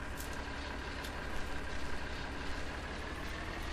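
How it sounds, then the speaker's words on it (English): A tractor engine in Farming Simulator 2013 on a Texas ranch map, idling with a steady low diesel drone, even and continuous throughout with no talk. "Let me get the tractor going."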